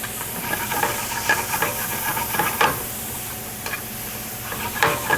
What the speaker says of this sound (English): I'm going to add one of the pads of butter that's provided. And get a little more moisture to the pan.